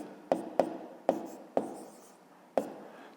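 Pen or marker writing a math expression on paper or board during a fifth-grade exercise, heard as five sharp taps and short scratchy strokes spaced irregularly, close and fairly quiet, with no talking.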